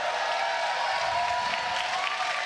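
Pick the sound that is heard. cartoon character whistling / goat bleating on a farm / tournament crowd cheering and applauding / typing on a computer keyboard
tournament crowd cheering and applauding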